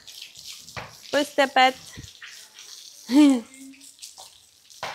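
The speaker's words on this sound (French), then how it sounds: "Un petit coup de douche pour mademoiselle." Shower water sprays steadily while a dog is rinsed down, a continuous hiss running under a woman's short remarks and a child-like exclamation.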